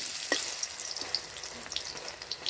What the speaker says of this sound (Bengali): আমি দুটো করে ভেজে নেব।